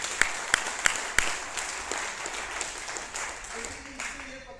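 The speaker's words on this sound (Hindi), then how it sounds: "एक बार अपने लिए ताली बजा दें।" An audience at a motivational talk breaks into applause after a request, opening with a few sharp individual claps before spreading into a dense, steady wash of clapping that fades slowly, heard from within the hall.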